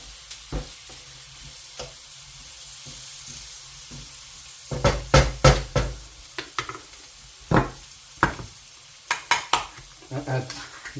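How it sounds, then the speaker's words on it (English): Beef curry stirred in a pot, a spoon scraping and knocking against the pan in irregular bursts over a faint sizzle, close and clear, quieter pauses between strokes. "Give this a stir in."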